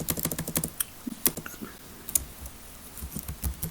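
Rapid keystrokes on a computer keyboard while typing into an MS Word document, a close, dense patter of clicks in bursts with short pauses, no voices.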